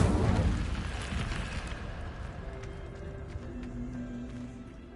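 A burst of fire from an Incendio spell in Hogwarts Legacy: a loud whooshing blast that erupts at once, then fades into a crackling, rumbling tail with scattered small pops.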